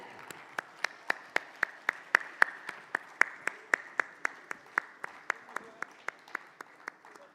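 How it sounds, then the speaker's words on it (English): A single pair of hands clapping in a slow, steady rhythm, about two dozen crisp claps, fairly close, at a seminar in Abu Dhabi. "A big round of applause for our chairman, CA Krishnan."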